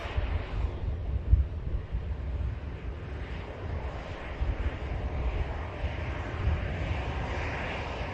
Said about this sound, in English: This aircraft will be followed in by another beauty, an A321neo belonging to Egypt Air